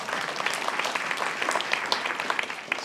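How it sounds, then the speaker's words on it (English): Graduation audience at a Brooklyn hospital ceremony applauding, a steady, full wash of many hands clapping throughout, moderately close, with no talk over it. "So yes, round of applause."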